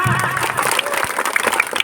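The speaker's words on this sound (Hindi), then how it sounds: "मैं चाहता हूं कि आप सभी लोग हमारी माताएं बहनों का स्वागत करिए तालियों की गड़गड़ाहट।" Villagers gathered for the birth anniversary celebration of Rajmata Ahilyabai Holkar clap together to welcome the mothers and sisters, a brief, close burst of applause with a voice audible over it.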